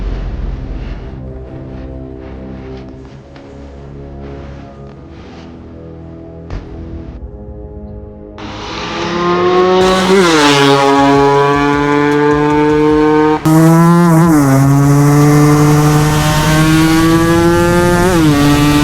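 A 37-year-old Yamaha RX 100 two-stroke motorcycle idles with a steady, buzzy putter, then revs hard as it is ridden off, climbing in sharp rising and falling pitch sweeps, loud and close.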